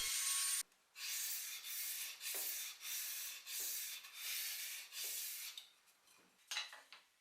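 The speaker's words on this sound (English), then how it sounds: "I chamfered the edges, which I then rounded over using sandpaper." Sandpaper rubbed by hand along the chamfered edges of a tapered wooden table leg, rhythmic back-and-forth scratchy strokes about twice a second, close and quiet, no voices.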